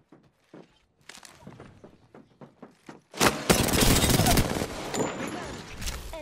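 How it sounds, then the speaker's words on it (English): Gunfire erupts in the video game Apex Legends: scattered thuds and footsteps give way to a loud, dense burst of rapid automatic shots that lasts several seconds and stays close. "I am taking fire, friends."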